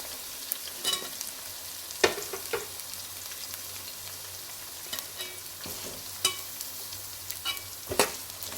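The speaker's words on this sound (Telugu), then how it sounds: "ఆనియన్స్ అయితే మంచిగా కలుపుకోవాలి" Onions and green chillies stirred and fried in a pan for an egg curry, a quiet soft sizzle punctuated by several sharp clicks of a utensil against the pan.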